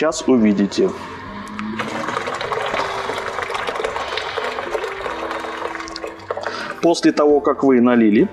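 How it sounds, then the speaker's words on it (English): Water poured steadily into a bowl to prepare a hot compress for a royal shave at a Truefitt and Hill barbershop, a continuous splashing fill of several seconds framed by someone talking before and after. "The last thing we do is we pour water in a bowl for hot compress."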